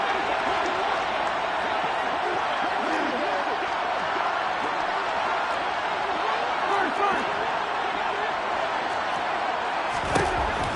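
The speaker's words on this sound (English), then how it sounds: "Crowd getting in it a bit already." A large football stadium crowd during a Miami Dolphins NFL game keeps up a loud, steady roar through the whole stretch, with a slight swell near the end.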